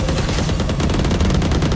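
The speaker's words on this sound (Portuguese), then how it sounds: "Ó, tem tiro B." Gunfire in the Valorant video game, a dense, loud, continuous burst of rapid shots filling the whole brief stretch.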